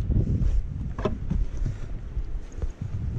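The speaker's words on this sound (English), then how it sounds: "Some good wind gusts today." Strong gusts of wind buffet and roar across the microphone outdoors on a snowy morning, a continuous rumbling rush rising and falling with brief sharper blasts.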